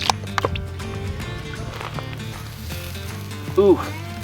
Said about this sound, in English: Ooh, making a nice grilled sound.